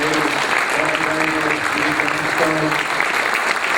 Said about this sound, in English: Would you please give our panel a round of applause?